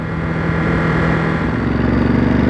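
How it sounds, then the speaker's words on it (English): A 2023 Ducati Monster SP motorcycle engine in road mode drones steadily and loud under a ride, its pitch holding and rising slightly as the bike accelerates, with no talk. "Straight away I can feel a little bit more pep in the engine."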